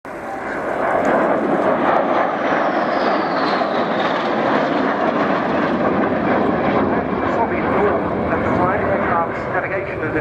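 A Sukhoi Su-22 jet performs a flying display at RIAT 2014, a loud, continuous roaring engine rumble throughout, with a voice talking over it.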